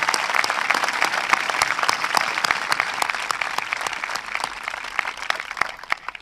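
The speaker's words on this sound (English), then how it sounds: "please stand for a round of applause" Audience at a school recognition ceremony claps steadily for about six seconds, a dense, even round of applause with no voices on top.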